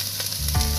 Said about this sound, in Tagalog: Lemongrass at sibuyas pinagsabay na ni Darlene